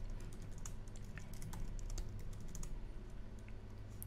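Quiet, steady tapping on a computer keyboard as a password is entered, irregular keystrokes close up over a low background hum, no voices.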